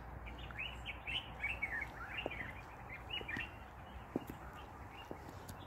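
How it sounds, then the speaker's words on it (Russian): Small birds chirping and twittering in a garden, faint and somewhat distant over a low background hum, with a few soft footstep-like knocks. "Слышите, как птички поют?"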